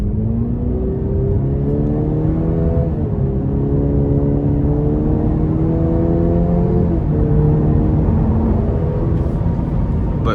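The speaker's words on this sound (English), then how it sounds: "I am gonna put it in sport mode and give it a little pull." A 2025 Cadillac CT5 Premium Luxury with the 2.0-litre turbo pulls hard in sport mode, its engine note rising steadily through several gears, then dropping at each shift, over a constant road rumble and with no talking.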